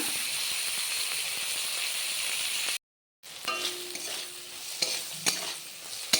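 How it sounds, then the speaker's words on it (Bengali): Prawns fry lightly in a pan for a bean and prawn dish, with a dense close sizzle that cuts out briefly and then returns with clinking and scraping stirs. "খুব বেশি কোড়া করে চিংড়ি মাছ ভাজবো না হালকা করে ভেজে নিতে হবে"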